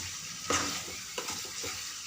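Food frying in a pan, a close sizzle broken by a few quick stirring scrapes and clatters of a spoon, short and without voices.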